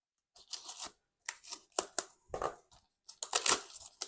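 A Blu-ray of La traversée de Paris being unwrapped, with short bursts of crinkling, tearing plastic film and scraping packaging in quick irregular clusters, close and fairly loud, with no talk.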